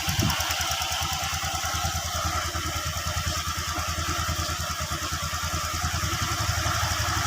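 A Honda Vario 125 fuel-injected scooter engine idles steadily close by while its RPM is adjusted, giving a continuous, even, buzzing putter with a fast regular pulse and no pauses.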